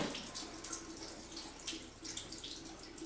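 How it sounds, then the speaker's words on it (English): Water runs out of a household pipe after a pipe-cleaning treatment, a steady faint splashing trickle, heard close and alone. "now that you have water coming out"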